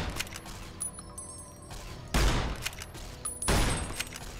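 Gunfire aimed at Lake Lurk creatures in the video game Fallout: New Vegas: a few sharp reports over a busy game background, with two heavier bursts of shooting standing out, loud and close.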